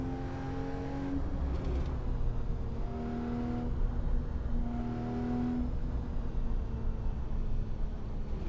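A car in Assetto Corsa driving on the Isle of Arran road map in western Scotland, its engine droning steadily with a few rising revs as gears shift, loud and alone.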